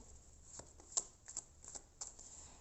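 Tarot cards being shuffled by hand, a few short crisp riffling bursts and soft slaps, close and quiet with no talking.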